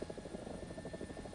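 Mi-28A attack helicopter in War Thunder, a steady close rotor thump with a throbbing, chopping drone held at an even level throughout.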